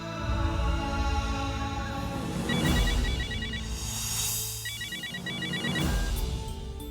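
A telephone bell rings in two clear bursts over a steady background music bed in a Hindi TV serial scene, the second burst following shortly after the first, with no talking.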